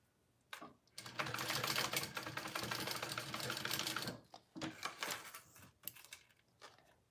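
A sewing machine runs a steady stitching burst of about three seconds while top stitching a barrel bag, close and clear, followed by shorter stops and starts and fabric handling clatter.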